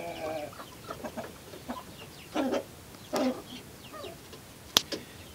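Young chickens and cockerels cluck softly and sporadically at a feeder, with short bursts and one sharp peep standing out against a quiet background.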